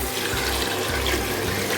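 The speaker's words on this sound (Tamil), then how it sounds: "நான் தண்ணி அளந்து எடுத்து வச்சுருக்கிறேன், இப்போ இதில் விட்டுக்கலாம்." Measured water being poured into a pot of biryani with turkey berries, giving a steady, close splashing and gurgling flow that runs continuously for under two seconds with no voices.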